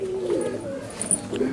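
A male Nildumma pigeon coos nearby, a couple of low, rolling throaty phrases swelling and fading over a second and a half.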